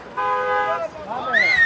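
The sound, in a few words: car horns honking at street protest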